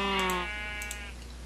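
A sheep bleats in a modded Minecraft game, a single drawn-out call for about half a second, loud and close, fading into a quiet steady hum with a couple of faint clicks.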